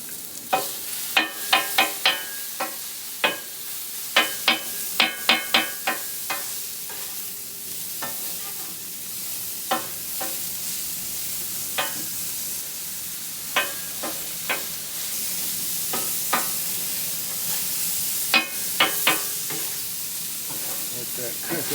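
Burger and sausage frying without oil on a Weber griddle, a steady close sizzle broken by sharp scraping and clinking of a spatula, in clusters of quick strokes with quieter stretches between them.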